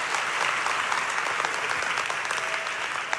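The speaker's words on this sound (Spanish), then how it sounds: "dale un aplauso, re bendito" A church congregation applauds steadily and loudly, a dense continuous wash of many hands clapping close by without any break.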